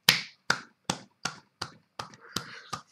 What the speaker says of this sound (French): Applaudissez mes frères et sœurs